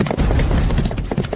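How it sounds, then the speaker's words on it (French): Horses gallop nearby, hooves clip-clopping in a rapid, dense, loud rhythm. "À cheval."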